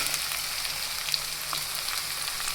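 Tomatoes frying in ginger-garlic paste for a tomato curry, giving a steady close sizzle with faint crackles throughout and no talk.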